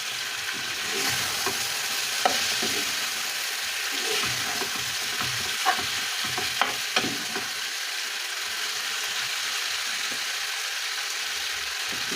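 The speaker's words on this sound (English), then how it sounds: "And then we let it shallow fry" Chicken shallow frying in a pan with beef cube seasoning, a continuous close sizzle with a few scattered utensil clicks and scrapes, no voices.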